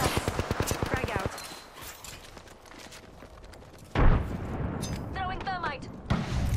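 Frag grenade in Apex Legends bursting with a loud, deep boom partway through, followed by a rumbling tail amid gunfire and footsteps, with a brief earlier blast and character voices calling out over the action.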